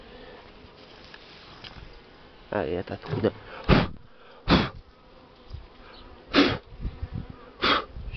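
Honeybees hum around an open Buckfast nucleus hive while a beekeeper works it during queen introduction, the buzz steady beneath occasional sharp handling thumps and brief close speech.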